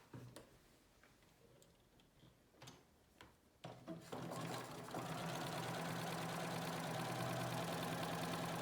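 A sewing machine stitches quilt binding, starting with a few scattered clicks and taps, then running into a steady, close mechanical whir that grows louder and holds to the end, with no talk.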